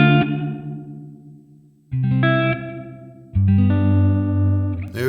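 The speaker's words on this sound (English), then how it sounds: "lot of pitch shifting going on there" Guitar chords struck three times through a Hotone Ampero Mini reverb with pitch shifting, each strike blooming into a bright, shimmering, sustained tail that swells and lingers, loud and clear with no voices.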